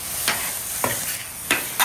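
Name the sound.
Benihana-style fried rice stir-frying on a griddle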